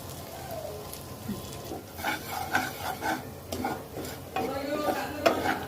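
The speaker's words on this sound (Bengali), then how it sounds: "একটু ভেজে নেব, ময়দা এবং রসুনের কাঁচা গন্ধটা যতক্ষণ না চলে যায়" Chopped garlic and a spoonful of flour fry in a pan for a garlic butter chicken, with a spoon scraping and stirring in uneven strokes over a soft sizzle, fairly close and moderately loud.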